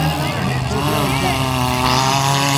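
A four-cylinder demolition derby car at a speedway wreckfest accelerates hard, its engine note climbing and wavering at mid-distance under a commentator's talk.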